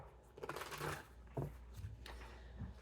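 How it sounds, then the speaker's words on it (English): Tarot cards being shuffled close by, a riffling flutter followed by a couple of quicker riffles and soft taps, with no talking. "One more shuffle"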